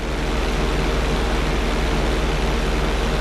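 An airplane in a GTA 5 flight school lesson, a steady loud engine drone with a low rumble holding constant throughout.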